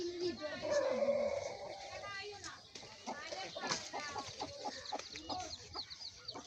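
Chickens and chicks cluck and peep on a desi chicken farm in a homestead setting, with several overlapping close calls and a voice talking throughout.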